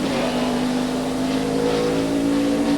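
A Ford Thunderbird NASCAR race car roars through a qualifying lap at Bristol, its engine holding a loud, steady, droning pitch throughout without pause.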